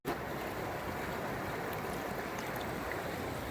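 Mountain river rushing past a riverside campsite below a dam, a steady, dense roar of flowing water filling the scene, close and continuous with no voices.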